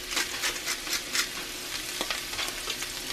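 Corned beef hash and potatoes fry side by side in a cast iron skillet, a steady close sizzle broken by repeated scraping stirs of a spatula, with no talking.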